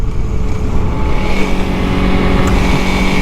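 A Honda CRF300L dual sport motorcycle cruises in sixth gear, its engine giving a steady, smooth drone mixed with wind rush. The sound holds at an even level throughout with no talking.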